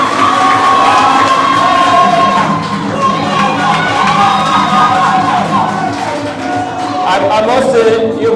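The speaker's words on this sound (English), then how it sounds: "Let's clap for these various administrators." An indoor crowd at an inter-school agripreneur competition in Cameroon claps and cheers for school administrators, a loud sustained burst of applause with shouts and whoops throughout, with voices mixed in.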